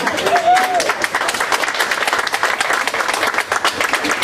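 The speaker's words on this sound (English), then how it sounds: "please keep that applause going for the man of the moment" Wedding guests applaud at a beach hotel reception, a steady wash of clapping from a crowd with a voice briefly rising over it near the start.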